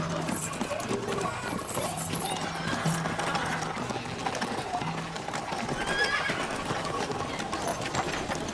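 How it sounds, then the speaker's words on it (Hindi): A horse gallops with rapid clip-clopping hooves and neighs loudly, heard over dramatic background sound with some indistinct voices. "मेरा घोड़ा ले जाओ।"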